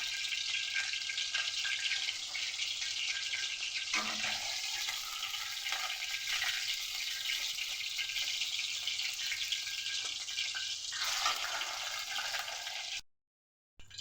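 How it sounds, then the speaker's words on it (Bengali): Fish frying in hot oil in a pan: a steady, loud sizzle and crackle that continues throughout, then cuts off abruptly near the end. "একে একে আমি এইভাবে সমস্ত মাছ ভেজে নেব।"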